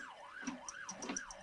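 An ambulance siren wails in a steady rising and falling cycle, fairly faint and distant, with a few brighter tonal blips riding over it and no speech.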